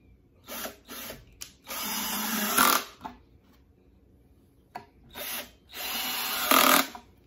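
Power drill boring six holes for a camper sink in a modular camper build, two short bursts then longer whirring runs with brief pauses between, close and fairly loud, no talking.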